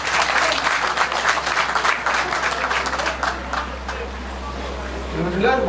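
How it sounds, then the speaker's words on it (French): Applause from a gathered crowd honouring a promoter at a village ceremony, sustained clapping under a continuous low hum, thinning out as a voice begins speaking near the end. "je demande à tout le monde d'applaudir pour le promoteur de Sokoma"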